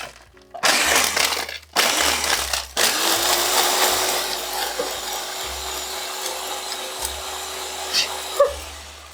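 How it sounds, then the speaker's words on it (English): A blender runs in short bursts, crushing ice for a tropical cocktail, with loud grinding noise starting and stopping several times before a longer steady run. "just give it a quick blast. Obviously, just to break a little bit of ice"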